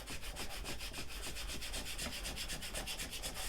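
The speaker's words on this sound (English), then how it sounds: "wipe off that haze with your hand" A bare hand wiping grout haze off a ceramic tile mosaic table top, a close, rapid rhythmic rubbing with quick repeated strokes and no talk.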